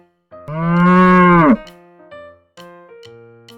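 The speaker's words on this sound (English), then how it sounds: "A cow says moo." A cow lets out one loud, sustained moo lasting about a second, close and clear, followed by softer musical tones.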